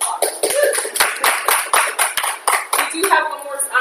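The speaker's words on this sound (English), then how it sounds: "Let's give him a round of applause." Town hall audience gives a short round of applause for a panelist, uneven close clapping from a modest crowd with some murmuring voices.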